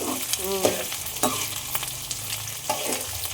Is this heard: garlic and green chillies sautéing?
yes